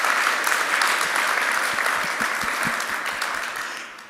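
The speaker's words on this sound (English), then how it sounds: "can we have like a round of applause for the program committee and the track hosts" Conference audience applauding the program committee and track hosts, a full, dense burst of clapping that holds steady, then slowly fades toward the end.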